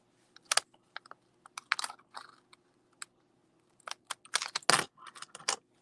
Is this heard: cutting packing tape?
yes